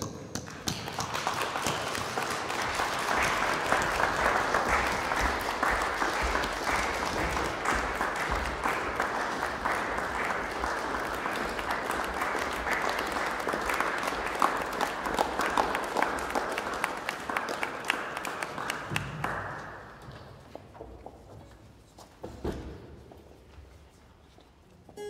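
A concert audience gives sustained, loud applause to welcome the court orchestra Caterva Musica, steady clapping for about twenty seconds before fading into scattered claps.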